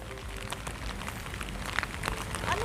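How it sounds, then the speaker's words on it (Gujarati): Steady rain patters on a waterlogged farm field of cucumber and mung bean crops, a soft, even hiss with occasional nearer drops and no voices. "જો વરસાદે ચાલુ"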